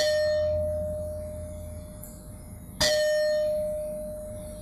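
A large stone struck once and ringing like a bell on the note E flat, a sharp metallic strike followed by a long, clear sustained tone that slowly fades, close and alone.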